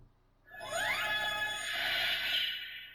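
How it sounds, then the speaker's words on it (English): Kamen Rider Decade Complete Selection Modification Ride Booker toy plays its world-travel effect: a rising electronic sweep swelling into a bright shimmering chime wash, loud and alone for about two seconds. "I believe that's the sound of Decade traveling worlds."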